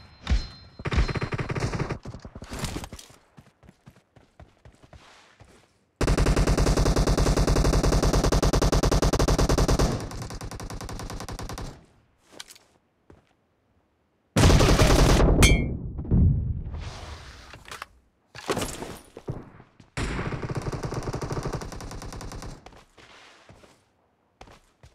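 Gunfire in the battle royale game PUBG during a team deathmatch: bursts of automatic fire and single shots come in loud, dense stretches separated by short gaps, with some footstep-like thuds between them.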